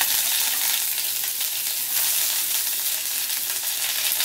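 Green chillies, garlic and curry leaves frying in hot oil for a stuffed brinjal curry, giving a steady, dense sizzle and crackle throughout, close and loud with no talking.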